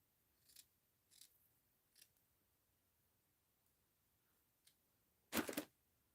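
Scissors snip paper while a paper doll is being cut out, giving a few quiet, separate cuts followed by a louder, closer snipping burst near the end; no voices are heard.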